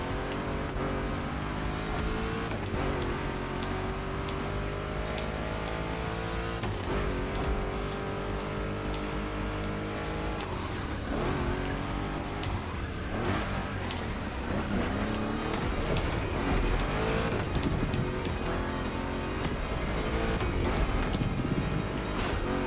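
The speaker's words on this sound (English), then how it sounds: "Two Chevys, two big blocks, but only one winner." Two Chevrolet big-block race cars in The Crew Motorfest video game roar continuously with layered engine tones, revving and shifting through the whole stretch at a steady, loud level, with a musical or game soundtrack bed mixed in.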